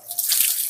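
Water scooped with a gayung dipper in a village with no tap is poured out, a single short close splash and gush lasting under a second.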